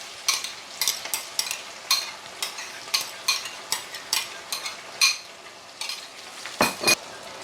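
Canned mackerel sizzles in a frying pan while a utensil stirs and scrapes it in a steady rhythm of repeated strokes, close and clear, with a few louder clinks near the end.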